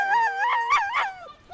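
Sled dogs at the finish of a race give high howls and whimpering yips in a short, close, wavering burst.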